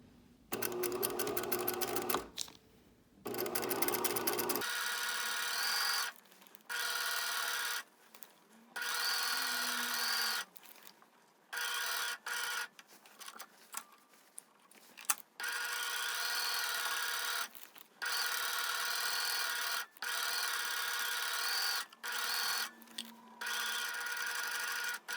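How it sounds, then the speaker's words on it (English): A sewing machine stitches a facing to a garment with a 1 cm seam allowance, running in repeated bursts of steady whirring separated by short pauses. "I'm going to sew the facing to the garment using a 1"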